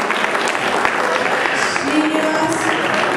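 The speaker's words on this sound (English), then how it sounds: "So give him a big round of applause." Audience applause at a regional award ceremony for a DharmaBee Level 2 contest, a steady, dense patter of clapping filling the whole stretch at moderate loudness, with some crowd murmur mixed in.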